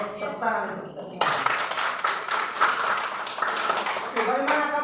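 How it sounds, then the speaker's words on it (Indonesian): A class of primary-school children claps together during a classroom lesson. The bursts of hand claps start suddenly after a brief moment of talk and continue as a busy, uneven patter of close, moderately loud claps. "semangat saya tepuk tangan untuk kita semua."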